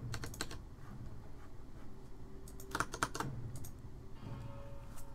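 Shift and Tab keys on a computer keyboard pressed repeatedly during a game, a series of crisp plastic clicks in irregular clusters, close and fairly quiet with no talking.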